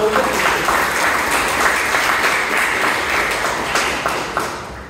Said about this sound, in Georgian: მომავალ საჩემპიონო ქამრის პრეტენდენტებს ტაში დაუკრათ